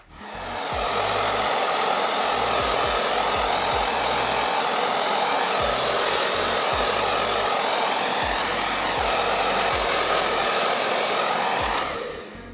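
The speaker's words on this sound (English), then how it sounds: "I like to brush it forward while blowing it dry till it's partway dry" A handheld hair dryer blows steadily and loudly while hair is brushed forward, a continuous close whoosh lasting almost the whole time before cutting off at the end.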